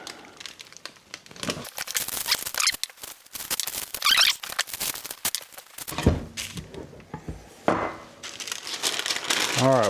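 Parchment paper crinkles and crackles up close in quick, irregular bursts while tortillas are pressed in a home kitchen, with brief pauses between handlings.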